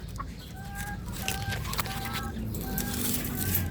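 Pullets and hens clucking in a backyard flock, with short repeated calls over steady farmyard background noise and faint voices nearby.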